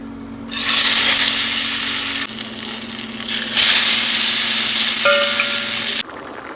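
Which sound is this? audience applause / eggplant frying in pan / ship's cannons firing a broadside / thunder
eggplant frying in pan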